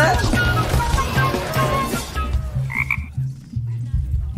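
Repeated low frog croaks pulse in a rough rhythm, with a voice talking over them for much of the time.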